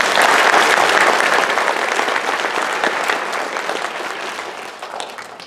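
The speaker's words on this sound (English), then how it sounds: "How about a hand for them?" An audience at a first grade school concert claps loudly and steadily, with the applause slowly fading over several seconds.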